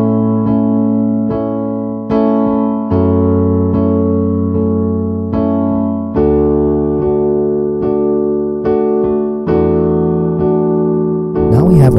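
Piano plays the interlude of a song, steady sustained chords changing every second or so, clear and alone without talk.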